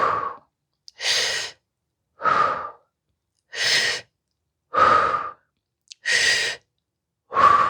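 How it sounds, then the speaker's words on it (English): Forceful breaths pushed out through the mouth during a guided exercise for hip pain and fascia, about seven separate bursts in a steady rhythm with short silent gaps between them, close and loud, with no talking. "breathe 6 times through the mouth"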